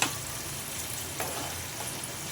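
Spice paste with tomatoes cooks in a pan over low heat, giving a faint, even sizzle with a couple of soft stirring scrapes.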